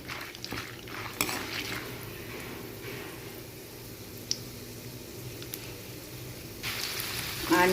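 Mustard seeds, urad dal, chana dal and peanuts fry in a pan with a faint sizzle under occasional scraping and stirring clinks of a utensil, close by and fairly quiet.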